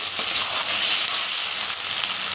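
Potatoes and yardlong beans sizzle steadily in a hot pan while being stirred, a dense continuous frying hiss with soft scraping, close and fairly loud with no talk.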